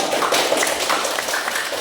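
Students in a classroom applaud briefly, their dense, scattered hand claps close and steady for about two seconds.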